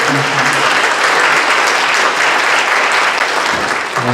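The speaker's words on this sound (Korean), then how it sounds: "좀 박수 한번 해드리고 싶어요." A church congregation gives loud, sustained applause at an installation ceremony, a thick, even roar of clapping that fills the room and eases slightly near the end.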